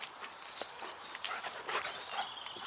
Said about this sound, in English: The birds are singing everywhere.